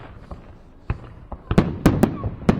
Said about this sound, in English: If you can't watch fireworks yourself, watch them from the comfort of your own home.